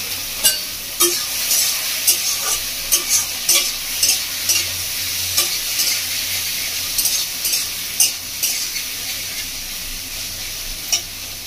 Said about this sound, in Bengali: এবার আমি দিয়ে দিচ্ছি ধুয়ে রাখা চিংড়ি মাছ